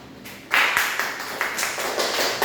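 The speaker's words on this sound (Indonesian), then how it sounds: "Tepuk tangan." A group claps hands in a classroom, a sudden burst of applause that starts abruptly and continues as a dense, close patter of many hands.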